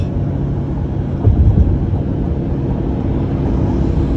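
A 2022 Chevrolet Corvette C8 1LT Z51 accelerating hard in third gear on a highway, a loud steady engine roar with road rumble that swells slightly midway, heard from inside the car.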